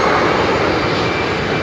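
A jet airliner with CFM56 engines roars loud and close at Heathrow, a dense, steady engine rumble filling the short stretch without a break.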